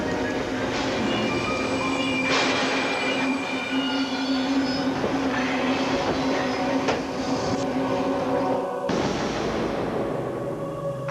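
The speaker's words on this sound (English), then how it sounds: "They don't see or hear Amtrak number 557 speed up behind them until it's too late" Amtrak passenger train number 557 speeding along railroad tracks, a loud continuous rush of rolling wagons with squealing wheels and rattling clatter that cuts off abruptly near the end.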